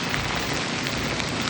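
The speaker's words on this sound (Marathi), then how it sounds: "हे बघा किती मुसळधार पाऊस आहे" Heavy torrential monsoon rain pours down in a dense, loud, unbroken hiss of drops striking the ground.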